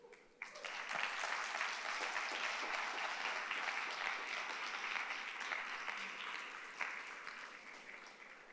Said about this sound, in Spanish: Puede darle un fuerte aplauso a Dios.